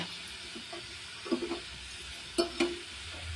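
Moong dal sweet bound with rice flour fries quietly in hot oil, a low steady sizzle broken by a few soft stirring knocks and scrapes in the pan.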